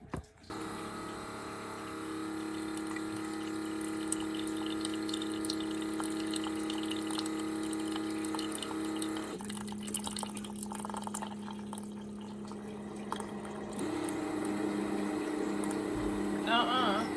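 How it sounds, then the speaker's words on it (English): Keurig coffee machine brewing into a small cup at home, a steady close pump hum and gurgling water flow running throughout, shifting pitch partway through, with faint background noise. "And then throw it over to the Keurig and just see what happens"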